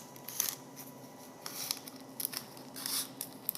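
Parchment paper piping bag being folded over at the top to form a crease, giving a few soft, quiet crinkles and rustles in short bursts with gaps between, close and faint against a low background hum.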